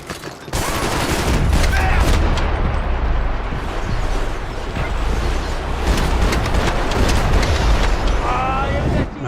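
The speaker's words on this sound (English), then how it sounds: "why it sound like somebody shooting" Dense, loud gunfire and explosions in a video game, a continuous close barrage of shots and blasts lasting several seconds, with no pauses.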